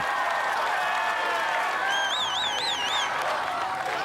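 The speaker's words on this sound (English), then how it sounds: "He wants the crowd to cheer him on." A large arena crowd cheers and applauds steadily at an American Ninja Warrior finals event in Kansas City, a dense, continuous roar with a shrill whistle rising partway through.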